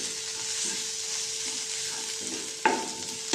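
Wheat grains stir-fried in oil in a pan give off a soft, steady sizzle with quiet scraping as they are stirred, and a couple of sharper clinks of the utensil against the pan near the end.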